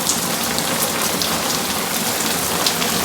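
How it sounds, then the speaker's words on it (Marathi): Heavy monsoon rain pours down in a loud, dense, unbroken roar in Konkan during traditional fishing. "खूप जोरात पाऊस पडतो"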